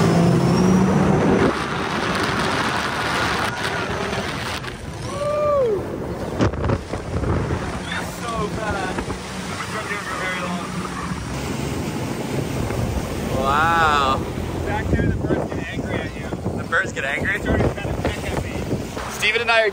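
A jet ski engine in sport mode revs and surges on a boosted launch over a river amid heavy wind buffeting, with whoops and shouting voices over the roar.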